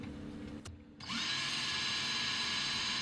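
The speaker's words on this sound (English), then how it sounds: "when drilling your pilot holes, don't go too deep" A power drill whirs briefly, pauses for a moment, then spins up again into a steady high-pitched whine drilling pilot holes, continuing to the end.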